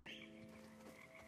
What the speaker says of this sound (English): those frog sounds at the beginning of the demo? Well, they're not just ambient sound effects. They're coming from actual frogs.